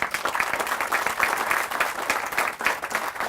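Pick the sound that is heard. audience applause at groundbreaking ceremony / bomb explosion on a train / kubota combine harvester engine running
audience applause at groundbreaking ceremony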